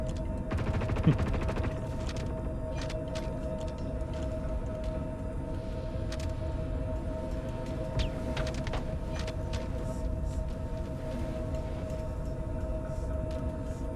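Gunfire aimed at a ship's power plant in the space game Star Citizen. The shots are muffled and fairly faint over a steady engine hum, with a few sharp pops breaking through the low rumble.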